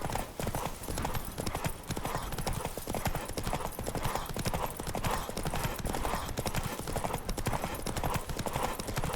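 Horse galloping in The Witcher 3 video game, a dense, continuous drumming of hooves up close and loud throughout, with rushing movement noise and no pauses.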